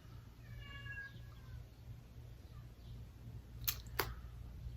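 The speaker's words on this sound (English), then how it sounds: "You hear my cat? Do you hear her?" A pet cat lets out one faint, short meow early on in a quiet indoor room, followed by two sharp clicks near the end over a low background hum.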